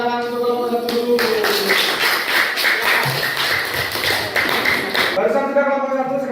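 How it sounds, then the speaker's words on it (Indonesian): Students in a classroom clapping their hands for the first presentation group, a dense burst of claps lasting several seconds, with a voice speaking just before and after. "Silakan tepuk tangan untuk kelompok 1 dulu."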